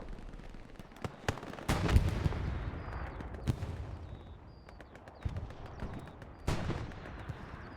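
Gunfire in the WWII shooter game Hell Let Loose: scattered single shots and short bursts crack out at varying distances, some sharp and near, others distant booms over a low battlefield rumble.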